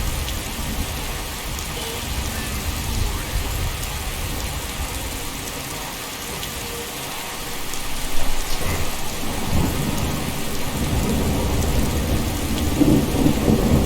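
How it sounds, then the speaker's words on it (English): Heavy rain pours steadily in Skyrim while deep thunder rumbles through, swelling louder partway in and continuing alongside the downpour. "Now we have a downpour."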